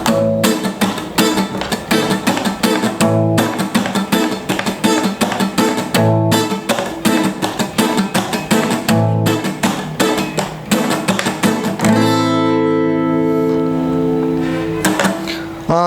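Acoustic guitar plays a choppy reggae strumming pattern on the bass strings, with tight rhythmic muted strokes repeating steadily up close, ending with a few ringing chords.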